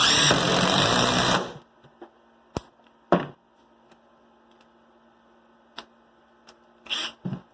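A cordless Makita 12V drill in high gear bores a 3-inch hole, running loud and near with a buzzing whir for about a second and a half, then cutting off. Scattered clicks and knocks follow in near silence.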